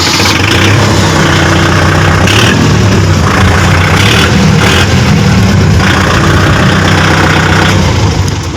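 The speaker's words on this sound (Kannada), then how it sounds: "ಸೊ ಇವಾಗ ಈ ಟ್ರ್ಯಾಕ್ಟರ್ನ ಸ್ಟಾರ್ಟ್ ಮಾಡೋಣ." A four-wheel-drive Kubota tractor's diesel engine runs loud and close, a rough steady idle with a few brief rises in revs and no talk.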